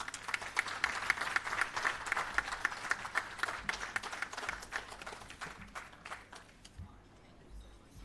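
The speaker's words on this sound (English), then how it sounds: "Another round of applause, ladies and gentlemen, for our Acting Chief Technical Director" An audience at a restorative justice facilitator graduation ceremony applauds, a dense burst of clapping that fades out over several seconds, with a voice heard beneath it.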